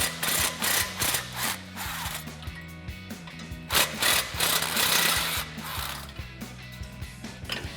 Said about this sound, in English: we're just gonna put an extension on our 14mm socket to get those out